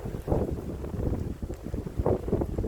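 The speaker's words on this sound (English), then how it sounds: "It's nice and windy" Gusty wind buffets the microphone in low rumbling bursts, rising and falling without any speech.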